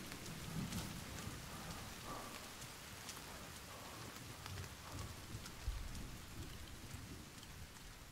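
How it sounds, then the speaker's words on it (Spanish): Steady rain pours down in a thunderstorm in The Forest video game, a dense continuous hiss with faint low thunder rumbles underneath, heard alone without any voices. "Se ve una tormenta."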